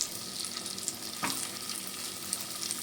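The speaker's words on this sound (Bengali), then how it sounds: "এবার আমি এর মধ্যে দিয়ে দেবো এক এক করে পটলগুলো। পটলটা খুব ভালো করে মিডিয়াম ফ্লেমে কিন্তু ভেজে নেব।" Pointed gourd pieces fry in turmeric-tinted oil over a medium flame, giving a steady close hiss with a brief crackling burst partway through and no talk.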